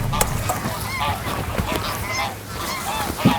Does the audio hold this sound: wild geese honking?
yes